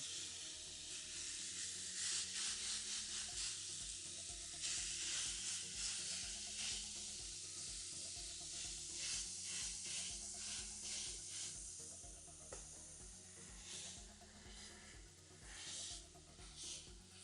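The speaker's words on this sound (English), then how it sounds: "You can hear the sugars just fizzle and sizzle" Steady sizzling and fizzing from sugary batter in a waffle iron, a continuous hiss with soft crackles, close and moderately loud, no voices.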